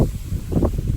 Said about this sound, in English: it's windy again today